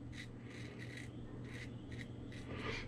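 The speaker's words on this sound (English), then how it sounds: "my second pass, I'm doing it against the grain" A Razorock Lupo .95 safety razor scrapes across stubble against the grain in short, repeated rasping strokes, close and quiet.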